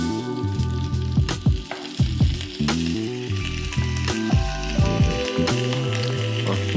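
Beef short ribs sear in hot olive oil in a pan, a loud, continuous crackling sizzle with frequent sharp pops over music, close and steady throughout.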